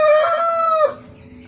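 A rooster crows once nearby, a loud drawn-out call that cuts off abruptly, leaving faint background noise.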